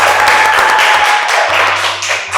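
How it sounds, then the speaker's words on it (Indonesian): Everyone clapping at the close of an online podcast, a loud, close flurry of claps that stays busy throughout, with a low steady hum underneath. "Tepuk tangan semuanya."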